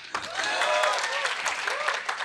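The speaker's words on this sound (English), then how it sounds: "Everyone is cheering." An audience applauding and cheering at a film event, continuous clapping with whoops and voices rising above it, lively and close throughout.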